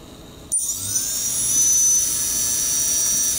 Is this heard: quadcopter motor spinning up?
yes